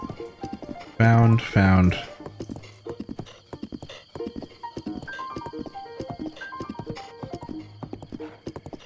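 A white horse in the video game Zelda: Breath of the Wild trots along with a steady clip-clop of hooves, moderately loud, while a voice speaks briefly over it near the start.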